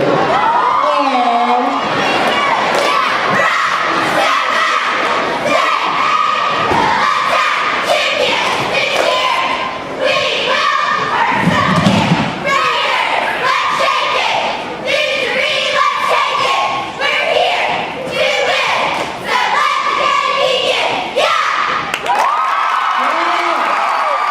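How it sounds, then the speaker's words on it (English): Senior cheerleaders perform their last cheer at a championship pep rally, with loud rhythmic thumps, chanted shouts and crowd cheering echoing through a gym for the whole stretch. "Let's welcome the cheerleaders as the seniors perform their last cheer"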